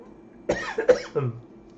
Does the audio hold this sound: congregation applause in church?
no